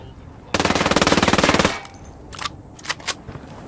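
A Vector .45 ACP submachine gun in the video game Ghost Recon Wildlands fires one rapid full-auto burst of about a second, loud and close, then a few lighter single clicks and handling sounds.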